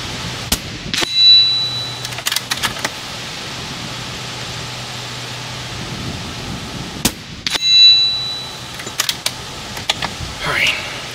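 Tethered FX Gauntlet .30cal air rifle shots hitting steel targets, each a sharp clang with a ringing ding following after a pause, heard a few times with quiet gaps and brief talk in between.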